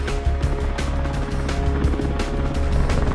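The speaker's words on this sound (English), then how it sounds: "The Apache Attack Helicopter." Steady, loud rotor thump of an Apache attack helicopter with a dense low drone and regular blade pulses, continuous throughout with no voices.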